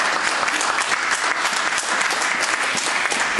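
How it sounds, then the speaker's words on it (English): At a spoken word poetry event, an audience applauds poet Isra with dense, steady clapping throughout, close and unbroken. "Before we give a round of applause for Isra"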